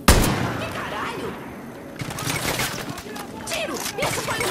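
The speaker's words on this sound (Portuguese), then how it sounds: "Tiro! Isso foi um tiro!" Rapid bursts of gunfire in the video game Far Cry New Dawn crack repeatedly, dense and loud, with shouting voices mixed in over the shots.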